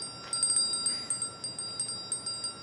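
Ophidian chime bell from the game Life is Strange: True Colors, a rapid series of bright high metallic dings repeating about a dozen times, clear and alone over quiet game ambience.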